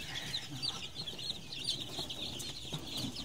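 A flock of White Albany chickens and chicks clucks and peeps on a farm, a busy chorus of soft overlapping calls at moderate distance, with no voices.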